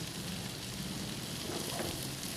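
Kaleji (liver) fries on a hot tawa, dhaba style: a steady, close, dense sizzle that holds evenly throughout with no voices.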